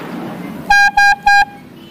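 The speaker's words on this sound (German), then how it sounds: "Und zum Schluss hupt er nochmal" Three short, loud car horn honks in quick, even succession, each a steady harmonic blare, over faint background road noise in India.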